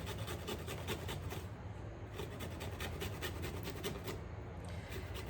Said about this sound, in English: So I just take the little side of the grater